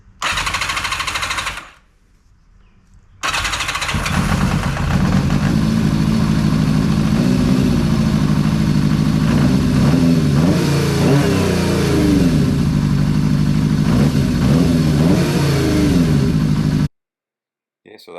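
A Yamaha XJ550R motorcycle engine, with fresh carburetors and the choke on, makes a short burst of noise, falls briefly quiet, then starts and runs loud and close, revving up and down in waves before cutting off abruptly.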